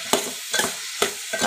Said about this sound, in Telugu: పచ్చి వాసన పోయేలా ఫ్రై చేసుకొని